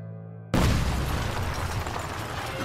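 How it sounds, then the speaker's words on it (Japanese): A sudden explosion in the video game Princess Connect! Re:Dive breaks in after a brief quiet tone, a heavy boom that rolls on as a loud, rumbling blast. "なんだ爆発音？"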